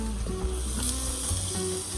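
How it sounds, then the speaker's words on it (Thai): Pork barbecue sizzles steadily on a Thai grill, a continuous close frying hiss with faint clatter and background noise, no speech over it. "มาแล้วเริ่มย่างแล้วนะเริ่มย่างแล้วนะ"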